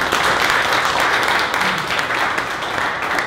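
At a Chicago pet care startup event, the audience gives the panelists a round of applause, a steady, dense wash of clapping from a room full of people that lasts the whole stretch.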